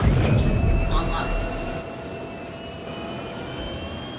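Spaceship engines lifting off in Star Citizen, a loud low roar that fades after a couple of seconds into a steady whine with thin high tones, with no talk over it.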